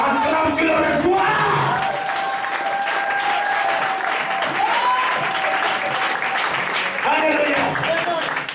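A church congregation breaks into loud, sustained applause and cheering throughout, with shouts and whoops rising over the clapping and no clear talk.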